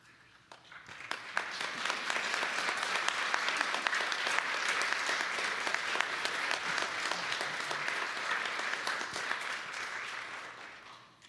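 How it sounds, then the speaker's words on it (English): A Unitarian Universalist congregation breaks into sustained applause for classroom volunteers and youth advisors, a dense, even roar of many hands that swells quickly and fades out after about ten seconds. "after that applause you just got"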